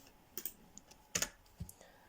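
Computer keyboard keys tapped while entering Python code, a few sparse, close clicks with short pauses between them and no talking.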